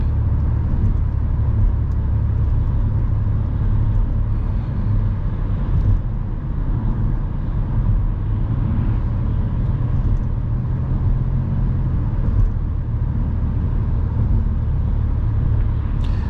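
Steady road traffic, a continuous loud low rumble of car engines and tyres passing close by, unbroken for the whole stretch with no voices.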